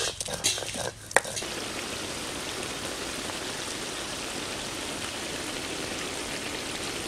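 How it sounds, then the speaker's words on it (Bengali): Onions frying in a pan for a village chicken curry, a dense, even sizzle like rain that runs throughout after a few clattering knocks at the start. "পেঁয়াজটা সুন্দর ভাজা হয়ে গেছে"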